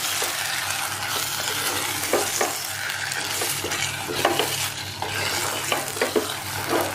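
Biryani masala frying in a clay pot gives a loud continuous sizzle, broken by regular stirring scrapes and a few spoon knocks against the pot. The sound is close, with no speech.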